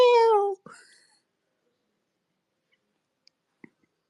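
A single drawn-out meow imitated by a person's voice, close and loud, followed by a short vocal trailing sound and then near silence broken by a couple of faint clicks.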